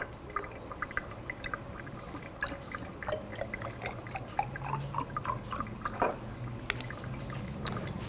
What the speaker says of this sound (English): And then up to 20 mils of sulfuric acid.